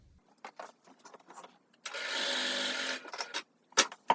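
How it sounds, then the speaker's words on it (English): A sewing machine sewing a quarter-inch seam runs in a single buzzing burst of about a second, surrounded by quiet clicks and fabric handling. "we're going to go over to the sewing machine and sew a 1/4 inch seam along here"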